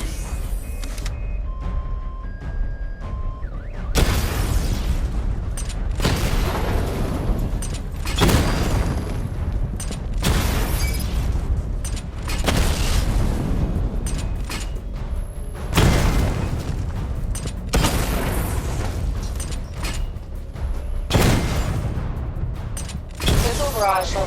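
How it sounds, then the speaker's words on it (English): Repeated heavy missile explosions in the video game Batman: Arkham Knight, loud broadband booms arriving every couple of seconds with a constant mechanical hum and game effects between them. "Charge the missile barrage to level 2 to destroy up to 4 targets at once."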